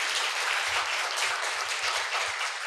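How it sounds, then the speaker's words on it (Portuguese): Steady applause from a small studio group welcoming a guest on a podcast, a dense clapping wash lasting a few seconds with no talking over it. "Uma salva de palmas para o Rivo no meio do podcast da Fernanda."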